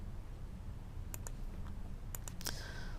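Computer mouse clicking in Cricut Design Space, heard as a few quiet, crisp clicks in small clusters against a low room hum, with no talk.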